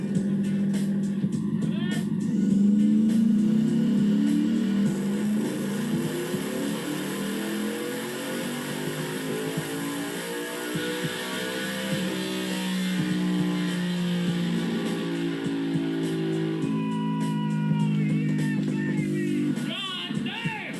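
Heavily modified 1000 hp mini Ford Raptor truck engine revving on a chassis dyno, a loud sustained roar climbing and sweeping through the rev range for about twenty seconds, with people talking and shouting over it.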